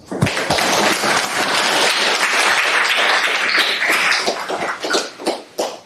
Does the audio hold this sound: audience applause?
yes